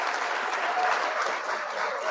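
A dense, steady round of applause from a large audience of about 1,600 at a hip hop debate event, loud and continuous throughout.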